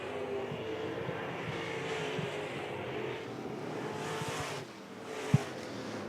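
IMCA modified race cars racing at RPM Speedway, a distant, steady engine roar washing across the track with a faint swell as cars pass and a brief sharp knock near the end.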